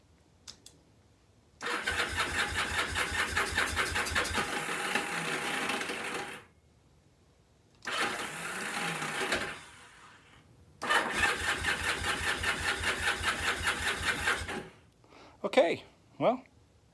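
A Kawasaki KZ750 motorcycle engine cranks repeatedly in three long bursts with a rapid chugging rhythm but never catches, followed by a few short faint noises.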